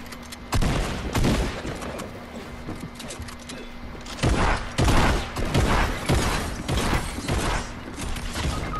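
Gunfire in a Fortnite Battle Royale duos match: loud bursts of rapid shots in clustered volleys, with sharp cracks and booming low hits that come and go over several seconds amid game clatter, with some talk mixed in.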